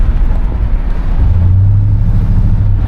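Deep, loud engine rumble from a 1973 Chevrolet Caprice on the move, a steady low drone heard from the cabin, with the pitch rising into a firmer hum partway through.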